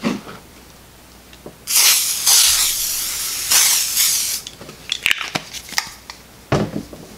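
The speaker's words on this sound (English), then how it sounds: "we're going to be taking our WD-40 and we're going to be doing a light even coat over the board" WD-40 sprays in a few close, loud hissing bursts over an NES circuit board, with a long spray followed by shorter ones and small clicks and handling noises between them.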